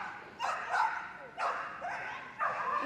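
An excited agility dog at Crufts 2023 gives a few sharp, high yips and barks in short bursts amid arena noise, moderately distant, with a commentator talking over it.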